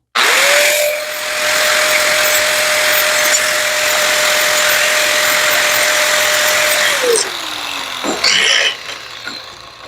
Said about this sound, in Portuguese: percebam que eu só passei a esmerilhadeira ali com o disco flap bem de levinho